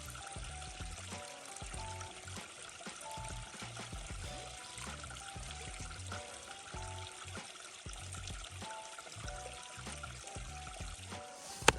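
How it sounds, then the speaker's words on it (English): Water scooped with a cut-off Sawyer squeeze bag and poured into a Smartwater bottle on a backpacking trip, a steady trickling pour running continuously up close at low level. "I'll use this to scoop the water up out to add into my smart water bottle"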